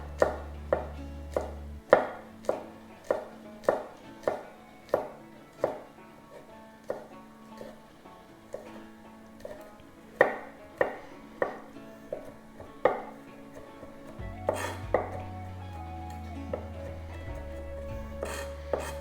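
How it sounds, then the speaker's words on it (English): Garlic being chopped with a knife on a board: a run of sharp, evenly paced knocks, close and clear, settling into quicker, softer taps near the end over a low background hum. "We've got some garlic, which we're going to just chop."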